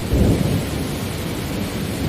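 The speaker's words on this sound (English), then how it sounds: "Let the sound of the rain carry you to peaceful shores." Heavy rain hisses steadily under a deep rumble of thunder, loud and continuous, with the thunder swelling at the start and then settling into a low roll.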